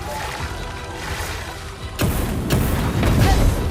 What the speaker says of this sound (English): Okay, we dodged the explosion.